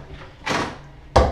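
A solid sliding bathroom door in a modern two-bedroom bungalow closes at close range: a rushing slide followed by one sharp thud.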